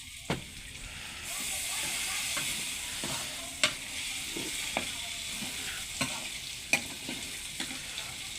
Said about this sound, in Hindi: चलो बेटा पानी का छंडा लगाओ थोड़ा।